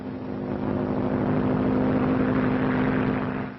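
A Bennett propeller plane drones as it sets down at Southfield airfield, a steady, loud engine hum with a strong low tone that swells gently and then eases off slightly toward the end.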